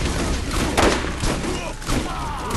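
Rapid gunfire from a first-person shooter game, Borderlands, with several sharp shots and thuds spread across a dense, continuous game mix, with a voice faintly present under the action.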